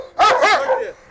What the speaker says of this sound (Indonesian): Sekarang lagi pakai tali, makanya menggonggong.